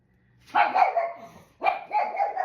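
Two close, loud barks from a pet dog indoors in a home kitchen, separated by a brief pause, each a short rough burst.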